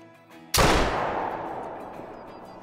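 A single loud rifle shot rings out in the Call of the Wild hunting game, fired at a bull elk, with a sharp crack followed by a long rolling echo that slowly fades over a couple of seconds.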